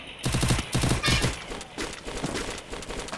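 Rapid bursts of video game gunfire crackle in quick succession, loud and dense, with brief gaps between volleys and no talk over them.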